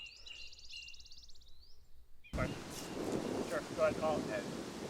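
Wind gusts buffeting the microphone at an outdoor disc golf course during a match play final, a steady broadband rush that jumps louder partway through, with faint distant sounds underneath.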